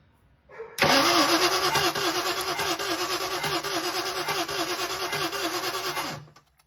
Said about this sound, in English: Let's go for try 2. Okay, go, crank it.